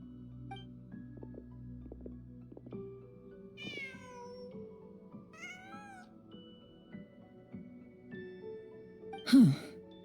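A cat in the video game Genshin Impact meows in several drawn-out, rising calls, heard close over soft ambient game music, with a brief sharp huff near the end.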